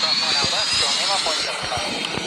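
An airplane engine in the Airline Commander flight video game drones loudly and continuously, with a high whine on top, while a person talks over it.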